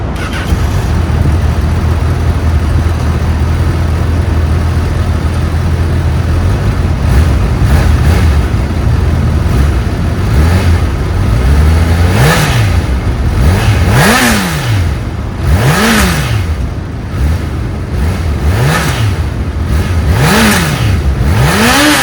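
A 2025 Honda Hornet 1000 motorcycle engine idles with a steady low hum, then is blipped through a series of sharp, rising-and-falling revs in quick succession, loud and close with no talking.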